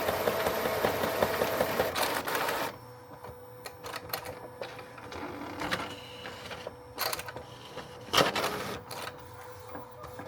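An Epson 8550 DTF printer runs a sheet, its busy mechanical whirring and clicking of the print head and feed steady at first, then thinning into intermittent clacks and short bursts of movement nearby.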